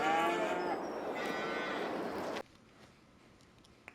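Cattle moo in Farming Simulator 22, several close, drawn-out calls overlapping, then cutting off abruptly into near silence with a faint click.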